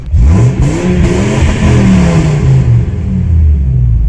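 A big V10 engine in a lifted Ford Econoline 350 camper van revs hard close by, a loud deep roar rising and surging continuously for several seconds.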